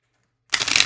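After a moment of silence, a quick burst of crisp riffling and flicking as a tarot deck is shuffled up close.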